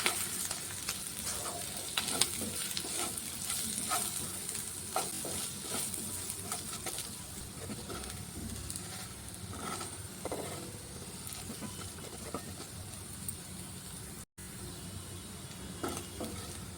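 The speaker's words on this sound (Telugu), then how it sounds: "అలాగే ఒక అర స్పూన్ ధనియాల పౌడర్ ఒక అర స్పూన్ గరం మసాలా వేసుకొని వీటన్నిటిని బాగా వేయించుకోవాలి" Coriander powder and garam masala fry in a pan with steady close sizzling and crackle, sharp stirring scrapes popping through at intervals across the whole stretch.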